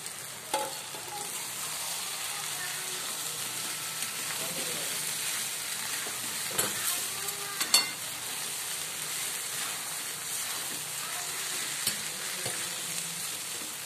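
Sago pearls stirred into a pan with boiled lentils for sago khichuri, a steady soft sizzle and frying hiss running throughout with occasional brief scrapes and clicks of the spoon, moderately loud and close, no voices.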